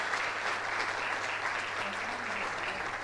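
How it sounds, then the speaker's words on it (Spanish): Sustained audience applause fills the whole stretch at steady volume, a dense wash of clapping from a crowd welcoming a performer, with no speech over it. "Para él, por favor, otra vez, un fuerte y merecido aplauso"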